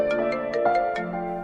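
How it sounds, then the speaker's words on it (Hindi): A phone rings with an incoming call, playing a short melodic ringtone of bright repeated tones at an even rhythm. It is heard close up, with no one talking over it. "एक सेकेंड, आर्यन का फोन है।"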